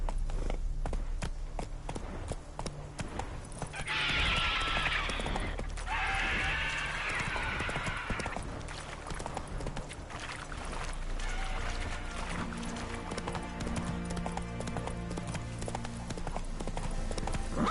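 A horse gallops in The Witcher 3, its rapid clip-clop hoofbeats running continuously beside game ambience, with a brief rushing burst partway through.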